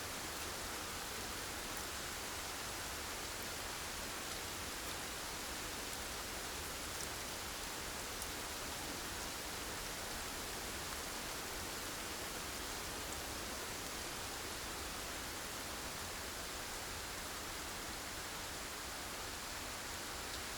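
Steady, even rain falling in the climbing game Jusant, a dense wash of hiss that stays constant and enveloping throughout with no breaks and no voices.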